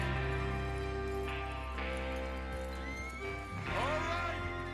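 Horses in the Red Dead Redemption 2 video game neigh and whinny over steady hoof clip-clop, with one loud whinny near the end standing out from a constant background bed of game ambience.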